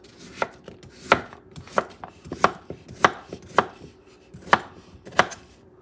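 A knife chops carrots and onion on a cutting board, about nine sharp, close thuds at an uneven, unhurried pace with no talking.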